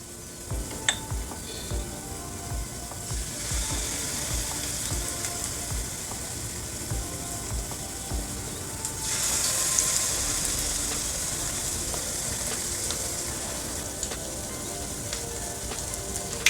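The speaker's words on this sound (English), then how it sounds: "you hear that nice little sizzle" Jamaican banana fritters fry in hot oil in a pan, giving a steady, crackling sizzle that holds throughout and grows louder partway through, with occasional small clinks.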